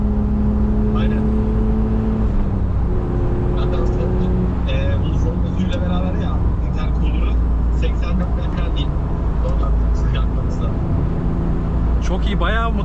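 A modified Golf 7 1.4 TSI on methanol races a BMW 330Ti in a drag race, the engine loud and close, rising in pitch as it accelerates through gears, with voices talking over it.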